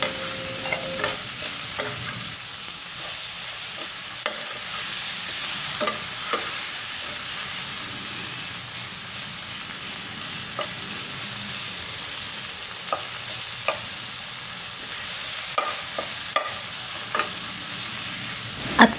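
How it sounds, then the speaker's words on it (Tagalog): Chopped tomatoes seasoned with black pepper and salt sauté in a pan for bangus sa gata, a steady sizzle broken by frequent clicks and scrapes of stirring, close and continuous with no voices. "atin lang yan igigisa hanggang sa magkaramilay or lumambot yung ating kamatis"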